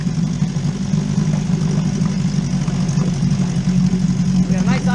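A 1957 Johnson 7.5HP outboard motor idling with a steady, low, burbling putter up close, and a voice talking over it.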